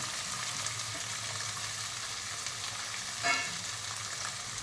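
Capsicum frying in a pan for sweetcorn capsicum Schezwan fried rice, a soft steady sizzle with a brief louder scrape of stirring partway through.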